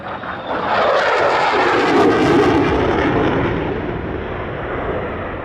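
A Lockheed Martin F-35A fighter jet of the Royal Australian Air Force roars past at an airshow, a loud, sustained, rumbling engine blast that swells and slowly fades.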